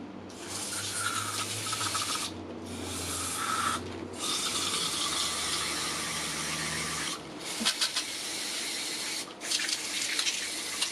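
Tap water runs as a part from a Makita DHR242 SDS Plus hammer drill is washed under it, a steady hiss interrupted by several brief gaps, with rubbing and light clinks as the part is handled.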